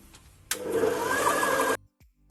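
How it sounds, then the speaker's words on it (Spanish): A stand mixer kneading bread dough for hot dog buns whirs loudly with a steady motor drone for just over a second, starting abruptly and cutting off sharply. "La he tenido amasando 5 minutos"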